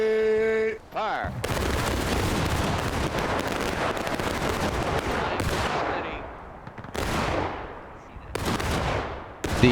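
A loud massed musket volley crashes out in War of Rights, with a long rolling roar of overlapping shots that fades and then flares again in a second burst near the end.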